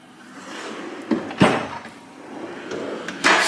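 A drawer of a home garage tool chest being slid open and shut, with a soft sliding rush broken by a few sharp knocks and clunks.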